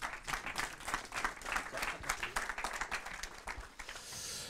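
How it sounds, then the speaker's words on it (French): An audience at a round-table evening applauds two arriving panelists, a fairly quiet but clear burst of clapping that swells and eases over several seconds, thinning toward the end. "je vais vous prier de les applaudir"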